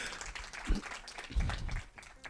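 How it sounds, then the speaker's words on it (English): Audience applause fills a room after a film screening, a faint wash of clapping with a couple of thumps and cheers rising and falling. "don't stop clapping"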